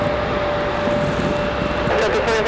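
A Delta airliner, flight 2164 to Detroit, departing from Raleigh-Durham in snowy weather, a steady loud engine roar holding throughout with a faint steady whine and no pause.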